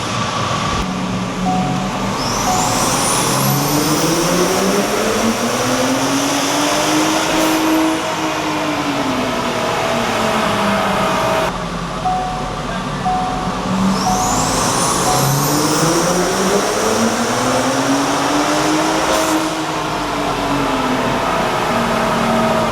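On a dyno, a 2024 Ford Raptor with the 3.5L EcoBoost V6 running a Boostane fuel blend roars loudly through two full pulls, the engine pitch climbing steeply each time before dropping back.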